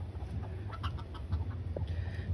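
A broody hen clucks nearby in a short run of low, soft, repeated clucks over steady background noise on a backyard farm.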